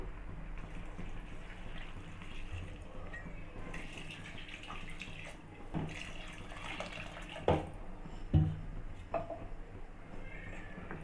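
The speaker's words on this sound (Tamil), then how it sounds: "ரெண்டு கப் அரிசிக்கு மூணு கிளாஸ் தண்ணி ஊற்றிப்போம்" Water splashes and pours steadily into a pressure cooker over rice, with a few louder sloshing bursts toward the end.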